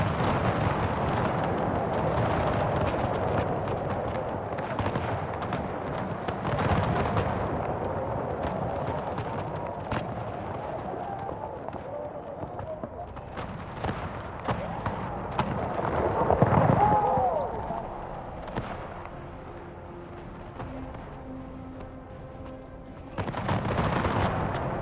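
Repeated booming cannon volleys and crackling musket fire ring out across a battle in Empire: Total War, with bursts and rumbling blasts spread over the whole stretch, some sharp and near, others duller.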